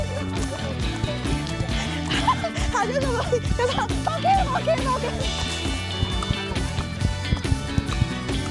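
Horses move along a mountain riding trail, with irregular hoof clops and thuds sounding under background noise and voices.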